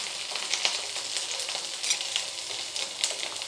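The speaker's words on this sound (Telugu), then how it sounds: "జీలకర్ర తర్వాత అల్లం వెల్లుల్లి పేస్ట్ వేసేసేయండి." Ginger garlic paste hitting hot oil right after cumin seeds, giving a steady, close sizzle and crackle with small pops throughout, no talking over it.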